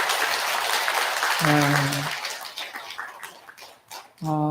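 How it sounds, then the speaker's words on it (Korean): An audience at a Buddhist temple Dharma service for the spring-beginning prayer applauds in a steady, dense patter, with short bursts of a speaking voice breaking in over and after it. "큰 박수 한번 부탁드리겠습니다"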